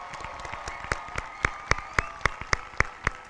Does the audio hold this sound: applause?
yes